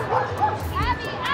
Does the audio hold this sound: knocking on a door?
no